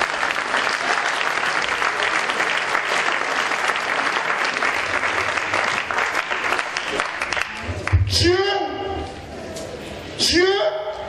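A church congregation at a French-language sermon on family breaks into loud, sustained applause and cheering, filling the hall from start to finish, with whoops and shouted voices rising near the end.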